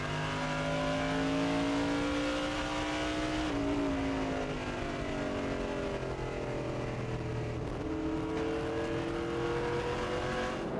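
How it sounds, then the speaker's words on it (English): Onboard engine roar from the number 25 Monte Carlo stock car during a 2003 USAR Hooters Pro Cup race at USA International: a loud, sustained drone whose pitch rises and drops as the driver works the throttle. "Stover in the number 25 car, the Shaw Industries Monte Carlo"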